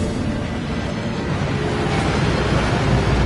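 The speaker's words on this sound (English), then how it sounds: "That waterfall washes away all enchantments." A waterfall in the Hogwarts Legacy video game gives off a steady, loud, broad rushing roar with no break throughout.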